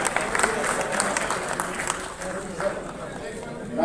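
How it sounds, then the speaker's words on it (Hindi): Audience applause at a film festival awards ceremony in Kurukshetra, a steady dense wash of many hands clapping throughout, fairly loud and continuous with crowd noise mixed in. "राजू मांझी के लिए जोरदार तालियां"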